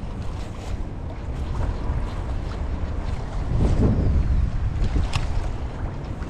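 Strong wind buffets the microphone on open saltwater from a fishing boat, a loud continuous roar and rumble with gusts swelling in the middle, and faint water and hull noise beneath, with no voices.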